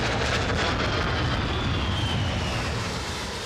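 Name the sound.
military jets landing on aircraft carrier HMS Illustrious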